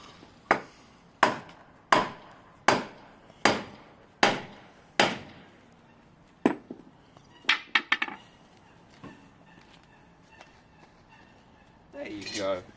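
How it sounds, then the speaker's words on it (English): A series of sharp metallic taps from a small hammer striking a Suzuki Bandit 600 motorcycle fork during fork seal replacement, about eight evenly spaced blows, then a few lighter scattered knocks. "give it a little love tap, just with the little hammer"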